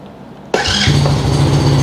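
Modenas Kriss 125 FI motorcycle engine cranked by the electric starter, catching abruptly and settling into a loud, steady, close idle rumble right after a quiet moment.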